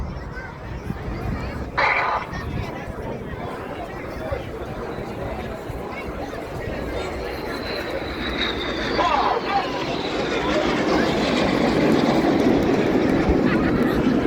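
Red Arrows jets at an air display in Scotland, a sustained roaring jet rumble that swells louder as the formation approaches at over 400 mph, with a commentator talking over it.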